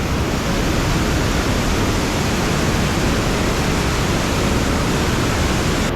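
Water at Eden Falls in the Philippines thunders as a dense, steady roar of falling water, close and loud, with no break for the full six seconds.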